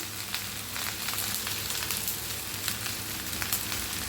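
Chili powder fries in masala for a home-made sabzi, producing a dense, steady close sizzle with faint crackles and no talk, brief and even in level.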